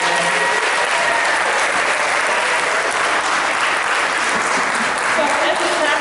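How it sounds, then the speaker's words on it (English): A graduation audience claps for the parents in sustained, dense applause that fills the hall at steady volume from start to finish. "So give the parents a round of applause."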